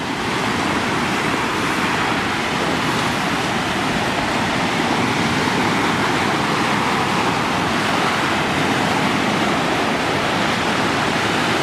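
Ocean waves wash steadily onto a beach at Civitavecchia, a continuous loud broadband surf roar that holds for the whole stretch with no clear pauses between breakers.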